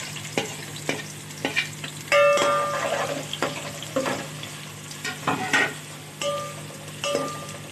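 Chopped onions sizzle in half a cup of hot oil for a chicken white pulao, with a soft continuous fry broken by several sharp metallic clinks and scrapes of stirring against the pot.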